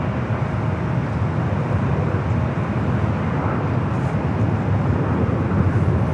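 A Boeing 747 airliner arriving at LAX roars steadily at a distance, a continuous broad rumble of jet engines with no pauses and no speech.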